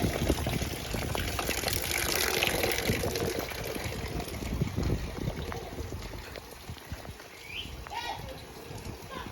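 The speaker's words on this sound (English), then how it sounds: "It's raining already," Rainwater runs steadily through collection pipes at a village home in Africa, a continuous rushing flow with faint bird calls toward the end.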